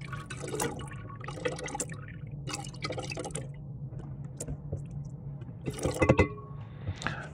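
Water being poured from one container into a lab beaker during gold refining from cell sludge, heard as intermittent splashing and trickling bursts with drips between them, close by and with no talking.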